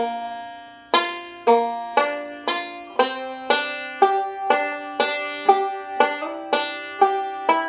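Banjo playing the repeated section of a song: a steady run of about a dozen bright plucked notes and strums at an even pulse, close and clear with no talk.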